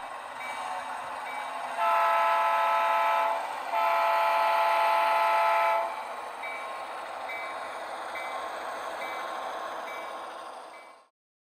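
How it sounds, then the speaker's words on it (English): Two long, steady whistle blasts sound back to back over a continuous rumbling model train hum, controlled with DCC-EX, that fades out at the end. "And I hear the conductor's whistle calling,"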